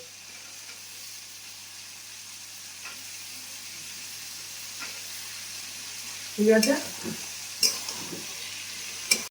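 Green peas go into radish and eggplant sizzling in a wok, a soft, steady frying hiss broken by a few clattering knocks of pan and spatula near the end, with a brief spoken phrase.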